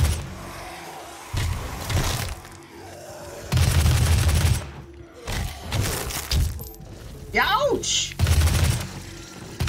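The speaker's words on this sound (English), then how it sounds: "Heavy assault rifle." Heavy assault rifle fire in DOOM 2016, loud bursts breaking out in several clusters against a busy game soundscape, with a brief spoken exclamation in between.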